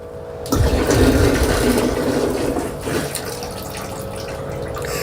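Liquid citrus and fruit tree feed is poured into a container, a sudden gush that starts loud, then settles into a steady, splashing stream with a few drips.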